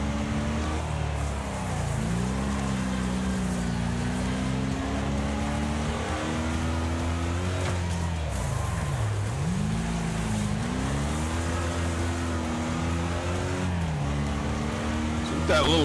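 Race car engines in Wreckfest career mode, a loud continuous engine drone with rising and falling revs as the car shifts gears, sustained throughout.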